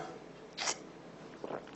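A single quiet sneeze in a lecture room, short and breathy against faint room hum, followed by a softer sniff a moment later.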